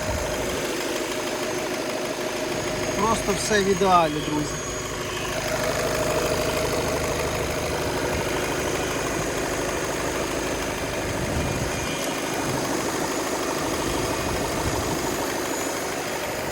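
A diesel Skoda Octavia A7 facelift Laurin & Klement 2.0 TDI engine idling steadily with a low, even rumble, close by; someone speaks briefly early on.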